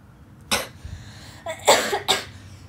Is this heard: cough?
yes